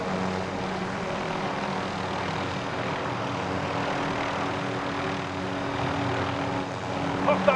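A steady aircraft engine drone while flying in Call of Duty: Modern Warfare, a continuous propeller-like hum held at even loudness throughout, with faint game voice chatter mixed underneath.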